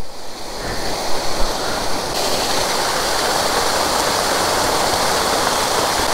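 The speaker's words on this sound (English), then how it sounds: "this is beautiful, fresh, rainforest mountain water" Fresh rainforest mountain water on a Bolivian mountain road pouring and splashing heavily. It gives a steady, loud, broadband rush that stays close and continuous throughout, with no talk.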